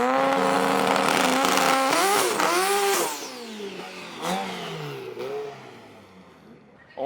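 A 2005 Mitsubishi Lancer Evolution with a 2-liter engine and a Precision turbocharger revs hard and loud nearby, with several rising and falling throttle blips that settle toward a quieter idle by the end.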